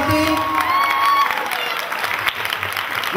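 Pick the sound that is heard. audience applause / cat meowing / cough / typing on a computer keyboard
audience applause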